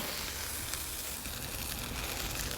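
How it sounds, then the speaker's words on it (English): A Wagyu tomahawk steak on an SNS kettle grill sizzles in a continuous fizzing hiss, steady and fairly quiet, with no other sounds on top. "Look at that thing sizzle."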